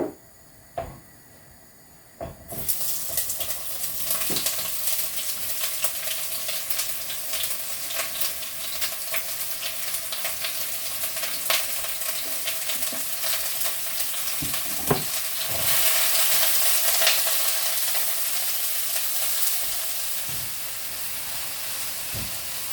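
Onions frying in vegetable oil, a quiet clunk then a steady loud sizzle that runs on for a long while, with occasional stirring clicks and a brief surge in intensity near the end.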